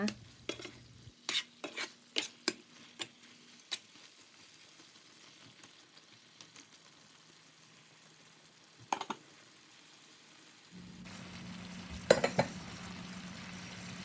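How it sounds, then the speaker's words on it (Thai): Pork and red curry paste are stirred in a pan with repeated close clicks and scrapes of a utensil over a quiet sizzle. The frying grows louder and steadier near the end, with no talk. "แล้วก็ผัดหมูกับเครื่องแกงให้เข้ากันเพื่อให้หมูสุกทั่วถึงนะคะ"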